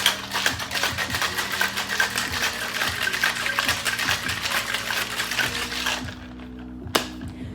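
A cocktail shaker packed with ice is shaken hard for a gin drink, giving a fast, even rattle that goes on for about six seconds and then stops, with one sharp knock near the end.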